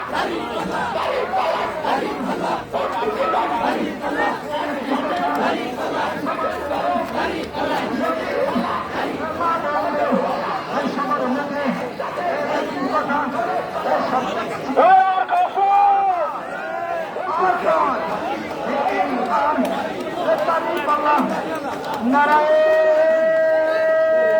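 A large crowd marches and chants together at a political protest rally, voices massed and loud throughout, with a sustained tonal horn-like sound near the end.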